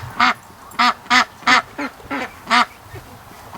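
Dalmatian ducks in a farm pen give about seven loud, close, nasal quacks. The calls come in a steady, evenly spaced series.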